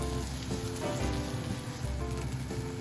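Freeze-dried koya-dofu tofu fries in butter in a pan, making a steady, close crackling sizzle with fine popping that carries on evenly with no voices.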